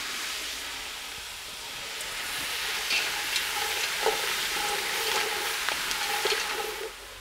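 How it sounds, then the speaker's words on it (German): Carrots and onions fry in a pan with a steady, bright sizzle, then peas are added. Stirring scrapes and clicks sit over the continuous frying hiss, heard up close with no talking. "habe ich dann die Möhren dazugegeben und auch die braten wir jetzt noch mal schön mit an"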